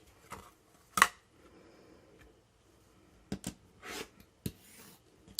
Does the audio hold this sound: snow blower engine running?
no